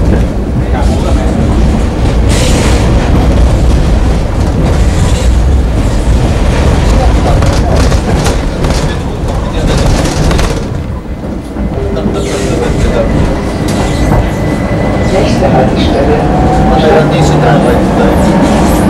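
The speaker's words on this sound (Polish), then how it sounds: "Ekstra ten pociąg wygląda" A train rolls past close by in a loud, continuous rumble with rhythmic clickety-clack of wheels over rail joints and a brief squeal, while people talk over it throughout.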